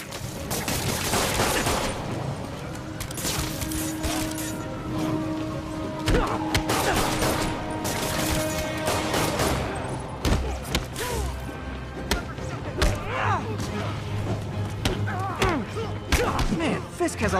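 Gunfire and impacts in the Spider-Man PS4 video game, with rapid bursts of shots, thuds and crashes over a dense action soundtrack, with voices heard at times.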